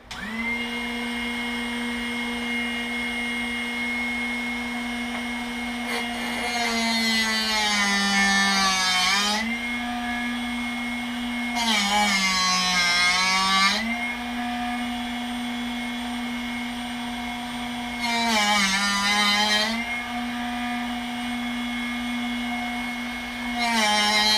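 Continuous motor whine of a Drill Doctor 750X drill bit sharpener with bursts of higher-pitched grinding as a small center drill is pressed against the wheel, close and loud.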